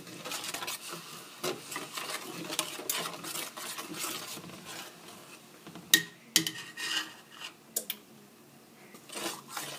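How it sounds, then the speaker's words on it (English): Spoon scraping and stirring a hot bubbling mixture in a cooking pot, soft irregular rasping and rubbing strokes with a few sharper metallic clinks, close and quiet. "Keep stirring it so that way it doesn't burn at the bottom of the pot."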